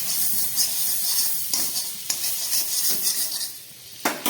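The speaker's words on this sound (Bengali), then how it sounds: "এই কড়াইয়ের মধ্যে দিয়ে দিচ্ছি খুব সামান্য একটু বাটার" A small amount of butter sizzles in a wok with a steady hiss, broken by several scraping spatula strokes and a final clatter, close and moderately loud with no voices.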